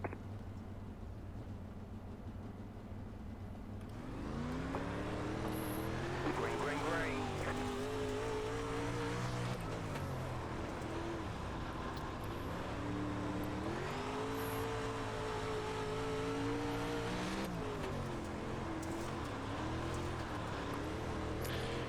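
Several 360 sprint cars race on the dirt oval at Lernerville Speedway in iRacing, engines roaring and revving together through a long continuous pack sound, with a short spoken call heard as the field goes green.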